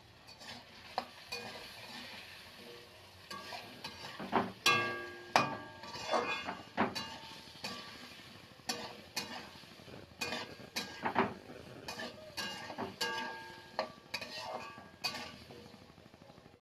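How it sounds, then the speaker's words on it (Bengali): Raw papaya pieces frying with salt and turmeric in a pan, with a faint sizzle beneath irregular clinks and scrapes of a metal spatula stirring against the pan. "এবার এগুলোকে ভালোভাবে ভেজে নেব লাল লাল করে।"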